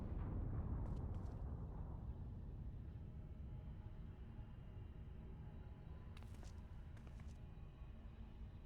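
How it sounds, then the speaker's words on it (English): A big explosion in the video game Final Fantasy XIV opens with a loud, deep booming blast that rolls into a long, low rumble slowly fading, with a few faint brief clicks later on. "It was a big explosion."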